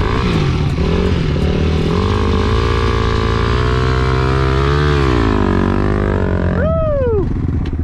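Yamaha TW200 motorcycle ridden in the desert, its engine droning loud and close, the pitch rising and falling through gear changes, then swooping sharply as the revs surge near the end.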